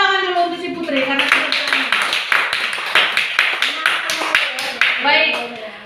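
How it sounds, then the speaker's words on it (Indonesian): Classmates clap for a student in a classroom, a burst of uneven hand claps running throughout while a teacher's voice talks over them. "Beri tepuk tangan dulu untuk si Putri"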